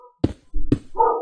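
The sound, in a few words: neighbour's dog barking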